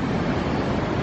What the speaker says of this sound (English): there are occasional waves that roll in